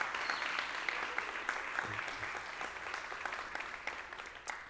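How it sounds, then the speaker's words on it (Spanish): Church congregation applauds first-time visitors, a soft, distant-sounding round of many hands clapping with a few sharper individual claps, fading gradually. "celebramos a cada una de las personas que nos visitan por primera vez con un aplauso"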